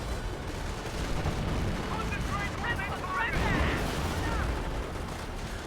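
Artillery barrage landing in Company of Heroes 1, a dense rumble of distant booms and gunfire rolling steadily, swelling briefly midway, with game combat noise throughout.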